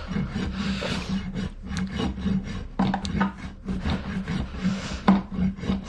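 A rasp scrapes across a horse's hoof capsule during a corrective barefoot trim, producing repeated rough rubbing strokes in an uneven rhythm, close and fairly quiet, with no talking.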